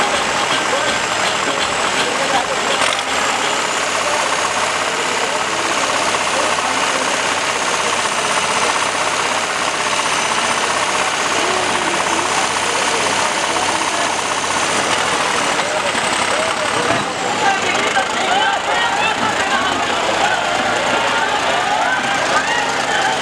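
A John Deere 5210 tractor strains in a tractor tug-of-war, its diesel engine giving a loud, steady, rattling roar throughout, with voices heard over the noise.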